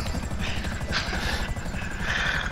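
Close, continuous rotor chop from a helicopter in GTA Online, a fast even beat that stays loud the whole time, with bursts of higher turbine whine swelling over it.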